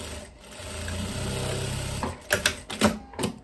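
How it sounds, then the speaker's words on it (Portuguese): Sewing machine stitching the side seam of a viscose dress, a close, fast mechanical whirring run for about two seconds, then several short stop-start bursts of stitching. "E já costuro ele desse lado também."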